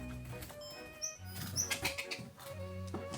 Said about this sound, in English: hi little bird. He's trying to get out.